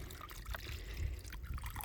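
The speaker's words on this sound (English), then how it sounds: "I'm gonna pour some water in it" Water is poured into an outdoor bowl left out for wild rabbits in harsh winter weather: a faint, steady trickle and splash lasting about two seconds, with no talk.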